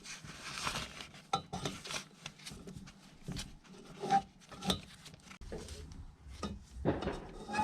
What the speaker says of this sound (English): I then use a valve spring compressor to, unsurprisingly, compress the spring